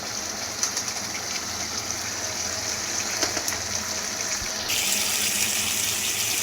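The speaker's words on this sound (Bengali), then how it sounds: "পরিমাণ মতো জলটা দিলাম, এটা ফুটবে।" Water poured into a pan of paneer masala gravy, a steady close rushing gush that runs continuously and grows a little brighter and louder near the end, with no talking.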